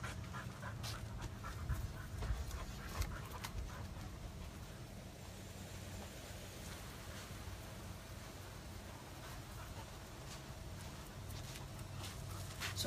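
A deaf Great Dane pants in quick, steady, rhythmic breaths close by, with the panting continuing throughout against a soft noisy background.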